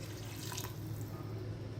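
Water pouring into a cooking pot for nalli nihari, a steady close rush of running water with no talk.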